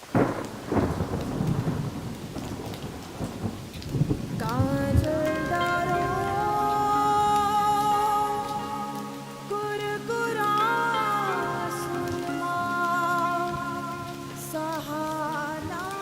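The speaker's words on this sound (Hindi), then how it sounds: "बहुत नहा लिया बारिश में, आ जाओ, ठंड लग जाएगी।" Deep rolling thunder rumbles over falling rain, then soft music rises and carries on beneath the storm.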